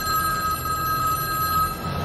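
A telephone in The Matrix rings with a continuous, loud electronic bell tone that holds steady for the whole stretch, with no talk over it.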